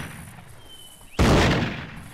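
A single loud shotgun blast at a clay target in Cabela's Big Game Hunter 2005, sharp and close, ringing out after a quiet stretch and trailing off over about a second.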